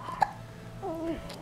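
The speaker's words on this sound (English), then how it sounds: "You got the hiccups?" A single short hiccup, a sudden soft gulp, followed by faint babbling vocal sounds in a quiet room.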